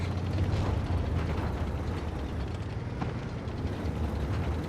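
Mechanical clanking and ratcheting of an AMX 50B tank's magazine reloading in World of Tanks Blitz, over a constant low engine drone, with no talking.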